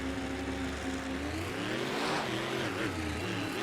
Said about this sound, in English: All trucks on the line stage, ready to go.